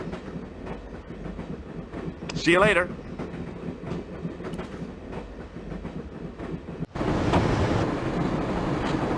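A train rolls steadily along rails in the Broken Sword adventure game, a constant rumbling clatter with wind rush, briefly joined by a high squealing tone and growing louder toward the end while someone speaks over it.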